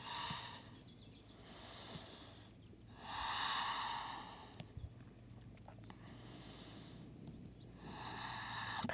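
Slow, deep yoga breaths during a downward-facing dog hold, with long airy inhalations and exhalations alternating in a steady rhythm, close and fairly quiet, with no talking.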